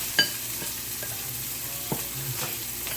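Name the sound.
garlic and onions sizzling with seared rabbit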